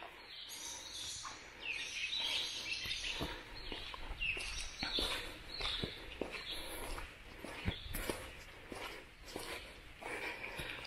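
Birds chirp and call inside a burned-out abandoned building in summer, bright twittering spread across the clip amid footsteps and rustling debris.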